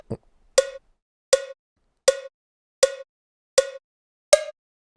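Six evenly spaced bright metronome clicks tick at a steady tempo, one preceded by a softer lower tap at the start.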